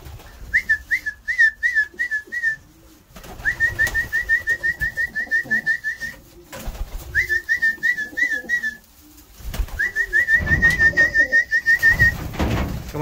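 Racing homer pigeons gather to eat parsley. Four bursts of rapid, high whistled trills repeat over low fluttering and soft cooing nearby.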